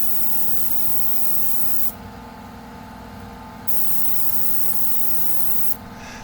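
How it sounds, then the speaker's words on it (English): A spray can hisses in two long, steady bursts separated by a short pause, close and fairly loud over a constant background hum. "Listen now what happens when I spray this"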